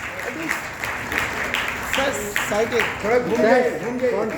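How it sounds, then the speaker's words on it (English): Audience applause at an academy's Montessori teacher training program launch, a moderate wash of clapping beneath voices talking and calling out, swelling toward the end. "Can we have a loud round of applause, please?"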